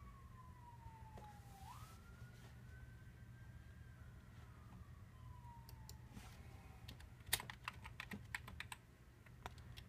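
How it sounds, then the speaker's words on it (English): A faint ambulance siren wails and sweeps in the distance outside a house while keys clack steadily nearby, the typing growing busier toward the end. "Please ignore the ambulance coming by my house."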